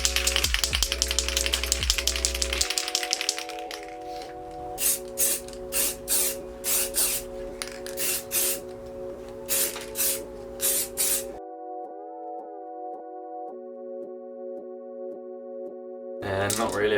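Spray paint goes onto car parts from a Fiesta ST Mk6 as a first coat in a string of short hissing bursts, close and rhythmic. A long initial spray comes first and music plays throughout.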